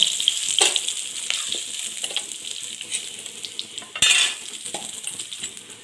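Spice masala frying in hot oil for a Bengali-style small fish curry, a continuous crackling sizzle with occasional spoon scrapes and a sharp clatter of utensil against pan near the end.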